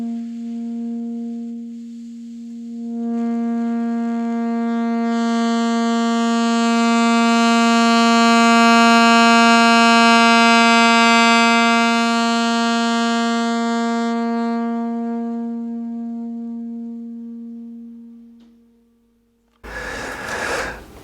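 A saxophone holds a steady G, swelling slowly from soft to loud and easing back down, alone and close, followed by a short burst of noise at the end.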